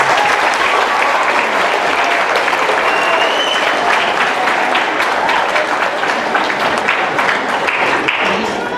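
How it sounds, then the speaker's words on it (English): Loud, sustained applause from a school audience honoring teachers at a high school assembly, dense clapping filling the whole stretch with crowd noise mixed in. "let's all give a huge round of applause to all these teachers"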